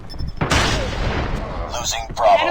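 Gunfire in the mobile shooter Call of Duty Mobile, a loud sustained burst of shots and booms with a voice talking over the game audio.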